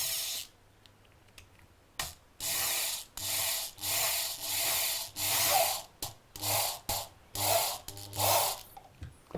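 A screw being driven into wood with a screwdriver, a series of close, raspy grinding turns in regular bursts, each lasting under a second and separated by short pauses, with no talking.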